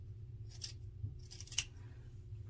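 Fabric scissors snip hair in two or three quick, crisp cuts over a steady low hum, close and fairly quiet.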